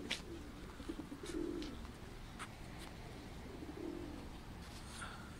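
Pigeons landing on an open ground give soft, faint coos a few times under a steady hiss of outdoor background, with occasional light clicks.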